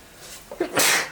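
A single close sneeze bursts out loudly after a short breathy intake, standing alone without talk.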